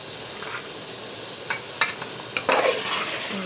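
Potatoes being stir-fried in a pan for Peshawari chicken karahi, a steady low sizzle with a few sharp utensil scrapes and clinks near the end, no voices.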